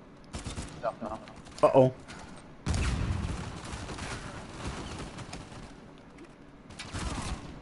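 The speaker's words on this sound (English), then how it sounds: "I'll always go back to my old reliable, which is the burst fire long rifle." Burst-fire long rifle shots in Uncharted 4 multiplayer come in a loud broadband volley after a brief spoken exclamation and some chirpy game sounds, then continue as a rumbling run of fire with a final burst near the end.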